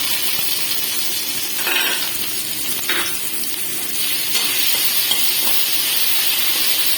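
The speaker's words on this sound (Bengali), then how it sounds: "কড়াতে তেল দিয়ে নিয়েছি, এর মধ্যে আমি এবার এই টমেটো আর নারকেল বাটাটা দিয়ে দেবো।" Tomato and coconut paste fries in hot oil in a wok, giving a close, continuous hiss and sizzle that swells briefly a few times. No one speaks.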